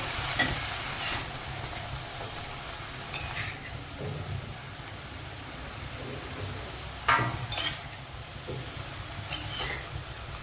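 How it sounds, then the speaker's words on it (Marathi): Vegetables being stirred in a cooking pan for a wild monsoon green dish, with moong dal added, giving soft scraping and rustling strokes, a few sharper clatters of the spoon against the pan, steady and close. "हिला चांगली हलवून घ्यायची आहे"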